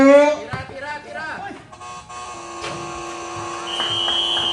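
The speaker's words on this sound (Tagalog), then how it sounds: "Buzzer na lang po maririnig." A loud electronic basketball game buzzer drones steadily after a burst of voices and crowd noise, holding a flat tone with a higher beep near the end.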